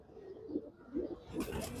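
A very old pigeon, seventeen years old and blind in one eye, coos softly in a few low, rolling phrases at a keeper's home loft, fairly quiet with a brief rustle near the end.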